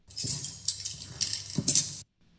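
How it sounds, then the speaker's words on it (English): Keys jangling as a sound effect, a bright metallic shaking that lasts about two seconds in a few bursts, close and fairly quiet, then it cuts to silence. "Let's see if we have like keys jangling."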